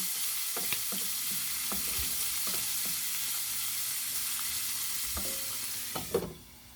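Pork sizzles steadily in a pan on its way to crispy for pork fried rice, a constant bright hiss broken by a few scraping clicks of stirring, then the sizzle drops away near the end.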